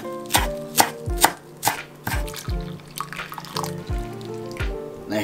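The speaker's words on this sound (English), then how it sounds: "I'm just quickly cutting up some green onion to put on top of the soup" A knife chops green onion on a board in a series of sharp, close thuds at an uneven rhythm, with tonal background sound running underneath.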